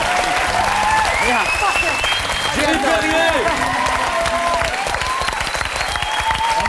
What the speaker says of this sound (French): je te demande d'applaudir Victoria.